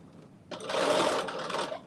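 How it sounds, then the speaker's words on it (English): A sewing machine stitching fabric for ruffle pants runs in one quick, fast whirring burst of about a second and a quarter as a short back stitch, close and fairly loud, with no talking. "Quick little back stitch."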